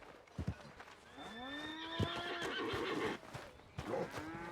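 A horse whinnies in a rising then falling neigh in the Red Dead Redemption 2 video game at the Pronghorn Ranch, clear and fairly close, with hoof clip-clops at the start and a snort near the end.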